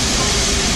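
Dense, loud roar from K1 steam locomotive 62005 hauling the Jacobite train run by West Coast Railways at Fort William, a continuous rumbling hiss filling a brief moment with no voices.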